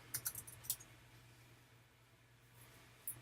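A password typed on a Mac computer keyboard, a quick burst of light key clicks followed by a pause and one more click, faint and close.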